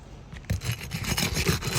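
A flat bar or cat's claw pry tool scrapes and rasps against roof shingles as their seals are broken, a close, steady run of gritty scraping strokes after a brief pause.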